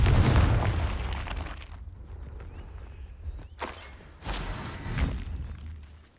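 In the video game Hogwarts Legacy, a Confringo blasting spell sets off booming explosions: a heavy blast at the start, then sharp bursts and rumbling impacts that rise and fade over several seconds, with no talking.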